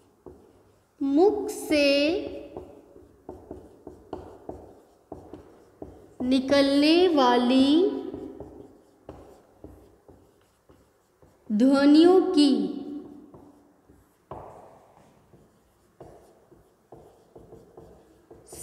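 Marker or chalk strokes on a classroom board during a Hindi lesson, a run of short scratchy taps and squeaks, fairly close, with a teacher's voice speaking in long stretches between the bursts of writing.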